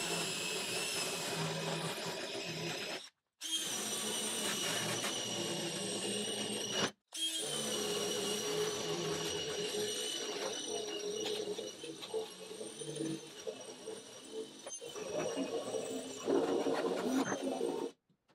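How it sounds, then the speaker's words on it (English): Abrasive disc grinding paint off a Triumph Spitfire rear quarter panel during restoration, a steady, continuous whining grind that runs nearly the whole time with only two brief breaks, moderately close. "we're going to take my abrasive disc, and then we're just going to remove the paint that comes along here"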